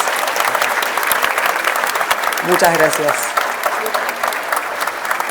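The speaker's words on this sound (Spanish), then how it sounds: "Un muy fuerte aplauso, por favor, a todos los panelistas que participaron." Audience applause for a panel of speakers at a conference, a broad steady wash of clapping throughout with someone briefly speaking over it.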